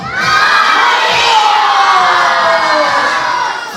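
Group of children shouting together in unison at a Christmas show, a loud sustained crowd yell lasting several seconds, rising quickly and fading at the end.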